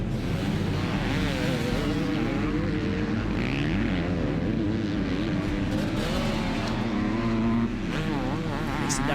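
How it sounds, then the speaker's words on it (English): Two-stroke motocross bikes racing in a pro race, a loud continuous engine roar with rising and falling revs as bikes pass close by throughout, with faint commentary underneath. "That 2-stroke sing."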